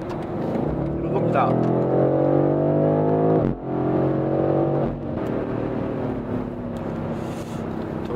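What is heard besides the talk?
BMW M850i xDrive V8 coupe accelerating in Sport Plus mode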